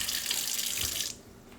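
Hot water runs steadily from a tap into a cast iron pan, a close, continuous hiss and splash that stops abruptly near the end, leaving quiet room tone.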